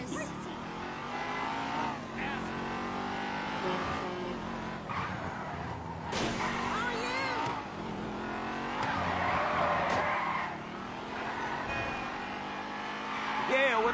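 A car in the video game GTA V drives with a revving engine and tires squealing and skidding, a busy game mix of engine and tire noise with voices talking over it throughout.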